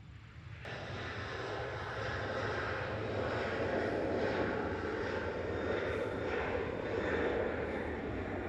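A Southwest airliner at Nashville International Airport, heard from the observation area as a steady, loud engine roar that holds evenly for the whole stretch, with no voices over it.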